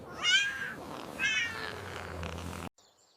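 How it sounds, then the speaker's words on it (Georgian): A domestic cat in a children's farm-animal cartoon gives two clear, close meows, followed by a softer, steady low purr-like rumble that cuts off abruptly. "ნახე როგორ კრუტუნებს."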